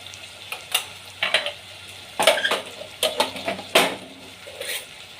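A spoon stirs turmeric into a Nellore-style mango fish curry in a pan, making a series of scraping, clinking strokes with a light sizzle underneath. The strokes come at an irregular rhythm, close and clear, with no talk.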